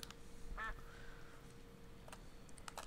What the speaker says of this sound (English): Oh, look, there's a duck.